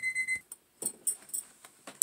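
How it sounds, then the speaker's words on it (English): A kitchen timer alarm rings in short electronic beeping bursts, several sharp repeated pulses close by with brief gaps between them, no talking. "let me get my timer, my dinner is done"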